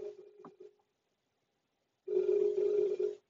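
A phone rings in a steady, loud electronic trill for about a second after a brief burst of earlier sound and a pause of silence, with no talking.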